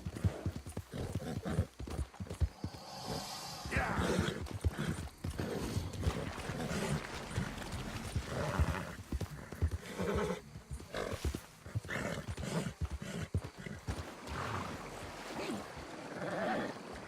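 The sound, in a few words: horse hooves and neighing in the video game Red Dead Redemption 2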